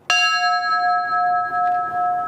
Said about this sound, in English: this bell was struck to mark the time the first plane hit the North Tower